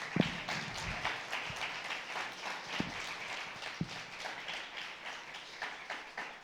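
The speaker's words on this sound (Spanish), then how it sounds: "Denle un fuerte aplauso al Señor." A church congregation claps for the Lord during a sermon by Pastor Julio Gutiérrez; the clapping is fairly faint and scattered, with a few sharper individual claps standing out.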